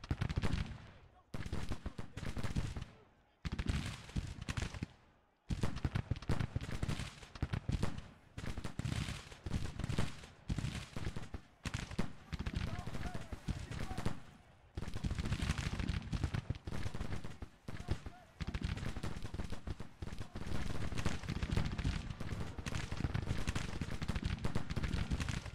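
Civil War musket and artillery gunfire in the Grand Tactician strategy game, dense crackling volleys and booms rolling almost continuously with a couple of brief lulls, loud and without talk.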